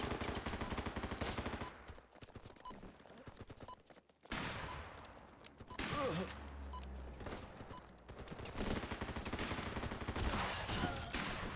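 Gunfire in the Running With Rifles war game: loud, close bursts of rapid machine-gun and rifle shots in several volleys separated by short gaps, with a voice talking between the bursts.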